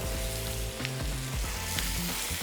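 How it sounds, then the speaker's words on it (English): Madeira wine sizzling in a hot pan as the alcohol cooks off for a pork Wellington, a dense, steady sizzle with low bubbling and a few faint stirring clicks, with no talking. "what you're looking for pretty much is to cook off the alcohol and just retain that flavor of the Madeira"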